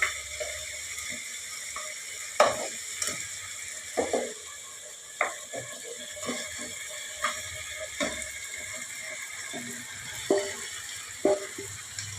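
Marinated chicken frying in a pan, a soft continuous sizzle broken by regular light clicks and rattles of a spoon or lid, quiet and close.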